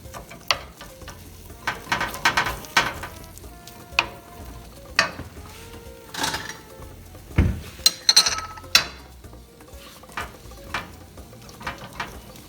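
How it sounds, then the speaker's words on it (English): Ground beef browns for hamburger helper beef pasta in a 10-inch skillet over medium-high heat, with a steady sizzle broken by frequent scraping and clinking of a utensil against the pan. "So basically you brown the beef in a 10-inch skillet, medium-high heat"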